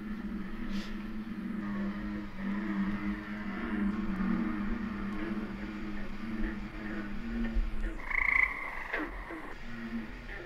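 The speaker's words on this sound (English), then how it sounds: "Right there in the dark night, you know, the bullfrogs make an awful racket." Bullfrogs croak in a dark pond at night, a dense continuous chorus of low droning calls with steady overlapping rhythm, joined near the end by a brighter higher call from another frog.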